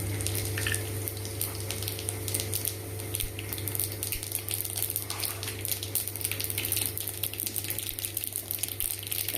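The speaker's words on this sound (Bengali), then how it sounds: "তেল গরম হয়ে গেছে। এই যে জিরে আর সরষা দেব ফোড়ন।" Cumin and mustard seeds sizzling in hot oil for a tempering, a loud, dense, continuous crackle with steady fizzing and popping that never lets up, a low hum beneath and no voices.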